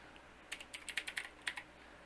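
About ten crisp keystrokes tap on a computer keyboard in a quick, fairly even run while a command is entered on an Ubuntu home web server. The clicks are close but soft, with no talk.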